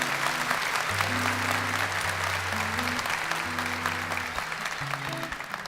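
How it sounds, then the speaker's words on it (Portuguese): A congregation at a Catholic Mass claps steadily and continuously, with sustained organ or keyboard tones playing underneath the applause. "Vamos aplaudir o nosso sim."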